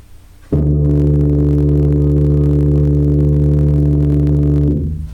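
Tuba sounding a single sustained low D played with the first and second valves, one loud, steady, deep note held for about four seconds and then released, close and alone with no talking.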